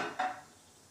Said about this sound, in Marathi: एक कढई ठेवून घेते